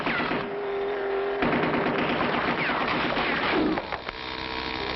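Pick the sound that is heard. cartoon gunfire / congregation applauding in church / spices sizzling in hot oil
cartoon gunfire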